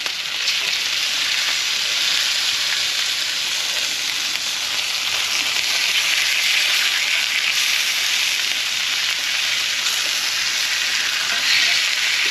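Lamb pieces, just flipped, fry in a skillet with a loud, steady, close hiss of sizzling fat that holds constant throughout.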